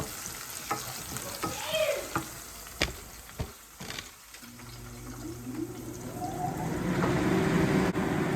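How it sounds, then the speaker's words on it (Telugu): Onions frying in a pan of cumin-tempered oil for a tomato and brinjal curry, with steady sizzling and repeated stirring scrapes that build into a louder, continuous crackle toward the end. "ఇప్పుడు ఆనియన్స్ వేస్తాను ఆనియన్స్ కొంచెం బ్రౌన్గా వేసి ఫ్రై చేసుకుందాం"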